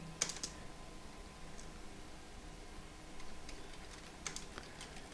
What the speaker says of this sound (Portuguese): eu vou digitando os comandos aqui para ir montando o meu programinha